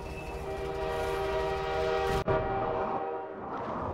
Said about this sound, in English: trains do not need to honk in my ear.